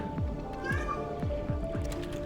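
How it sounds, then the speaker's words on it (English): A cat meows repeatedly at a door, five short downward-sliding meows in a steady rhythm, close and clear over a soft background hum and faint game sounds. "He's having a meow at the door."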